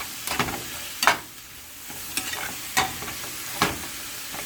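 Peppers and tomatoes frying in bacon fat in a pan, a soft continuous sizzle broken by several sharp scraping stirs and tosses at irregular intervals, close by with no talking.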